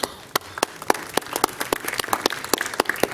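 Applause at a city council meeting welcoming a city official, a burst of close, crisp hand claps from a modest group, irregular and steady throughout.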